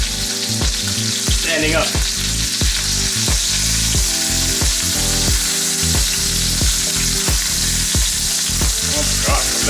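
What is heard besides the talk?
NY strip steak searing in pan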